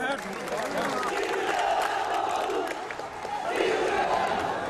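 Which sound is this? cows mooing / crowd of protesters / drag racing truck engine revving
crowd of protesters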